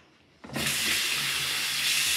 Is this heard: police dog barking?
no